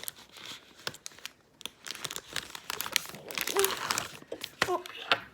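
Plastic wrapper on a Baskin Robbins Kuromi grape stick bar being torn and pulled open, with quick close crinkles and sharp rips scattered across several seconds while someone talks softly.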